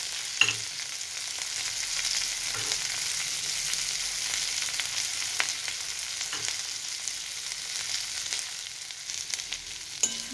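Chopped garlic fries in the oil left from frying soybean chunks for chilli soybean, making a continuous close sizzle broken by a few soft clinks of stirring.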